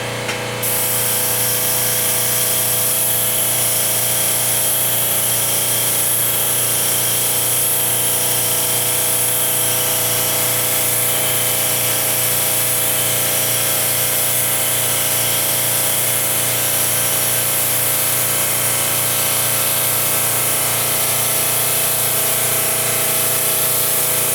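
A steady, continuous hiss of a Paasche Talon airbrush spraying paint onto newspaper, with a droning mechanical hum underneath, unbroken from start to finish.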